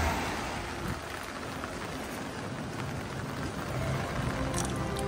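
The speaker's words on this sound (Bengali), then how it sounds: "বৃষ্টি ভেজা টোকিও, বৃষ্টি ভেজা শিনজুকু" Steady rain falls on the streets of Shinjuku, Tokyo, a continuous even hiss of drops on pavement with faint traffic rumble beneath, constant in loudness throughout.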